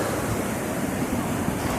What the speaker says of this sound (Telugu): సముద్రం ఉవ్వెత్తున ఎగిసే కెరటాలు, గాలి చేత రేపబడుతున్న తరంగాలు,